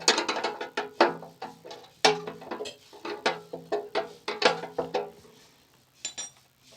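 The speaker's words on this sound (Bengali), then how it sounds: "নম্বর রিংটা দিয়ে আপনি আস্তে করে এটা খুলে দেন।" A spanner works loose the nuts holding a Hero motorcycle fuel tank, giving repeated close metallic ratcheting and clinking in short irregular bursts, with no talk.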